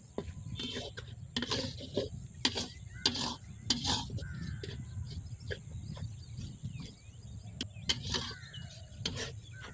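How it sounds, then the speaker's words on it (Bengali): Spice masala with poppy seed paste and melon seed paste being stir-fried for katla fish rezala, a Bengali dish, giving repeated clinking scrapes of a spoon against the pan over a low sizzle, with faint background sounds. "রেজালাতে সব মশলা দেওয়া হয়ে গেছে, এবার এটাকে ভালো করে কষিয়ে নেব।"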